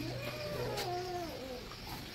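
A cat meows in a few drawn-out, wavering cries that rise and fall, close and fairly clear over a low background hum, with no talking.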